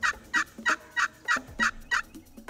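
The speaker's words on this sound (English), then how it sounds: "I was hearing some distant gobbling" Wild turkey gobbler gobbling at a distance, a rapid series of about eight rattling bursts at an even rhythm, clear and alone with no talk.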